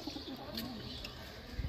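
Soft, low cooing from a Madras-breed pigeon of Andhra and Tiplar lines, heard faintly at close range in brief throaty phrases over steady background hiss.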